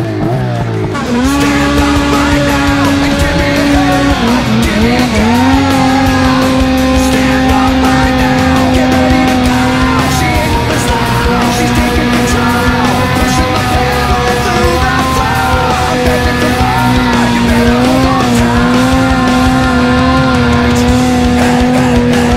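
A snowmobile engine, one of a Sno Pro 600 and an XMR 1000, runs again after a breakdown, burning oil; a loud, continuous, close engine drone holds a steady pitch with a few brief rises and dips throughout.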